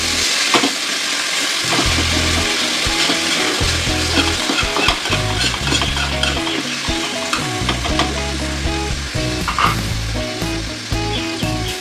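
Garlic butter sizzles and fries in a greased pan with a constant crackling hiss and occasional stirring scrapes, close and continuous, with no voices.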